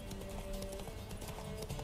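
Steady galloping hoofbeats clatter continuously over a bed of The Witcher 3 game music, fairly close and even in rhythm.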